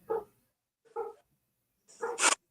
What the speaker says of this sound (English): You hear Bella barking outside?